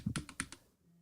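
Keys clatter on a computer keyboard at close range, about five quick clicks in a short burst before it goes quiet.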